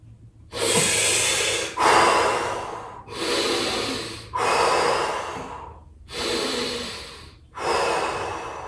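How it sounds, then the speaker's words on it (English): Deep breathing during a Tibetan rites breathing exercise, with six long, loud, close exhales and inhales in a steady rhythm, each lasting about a second, with short pauses between them. "Deep in. Breathe out, hands on the knees."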